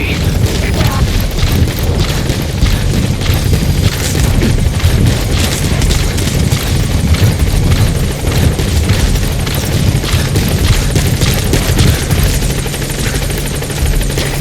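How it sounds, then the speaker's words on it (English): Support helicopter landing at a landing zone in Metal Gear Solid V, a loud, steady rotor roar with deep low thumping that fills the whole stretch without a break. "Alright, the chopper's touching down."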